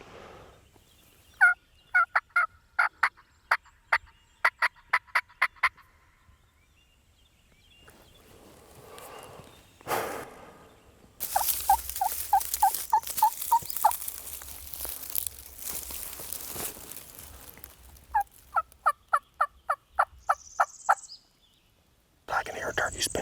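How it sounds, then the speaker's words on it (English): Wild turkey gobbler spitting and drumming in a privet, briar and sweet gum thicket on a plantation hunt; short repeated pulses and low drumming come in bursts, some close and some softer, with rustling between them. "I can hear a turkey spitting and drumming right here."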